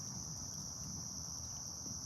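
Crickets chirp outdoors at night in a steady, unbroken high-pitched drone, moderately faint and continuous, with no voices.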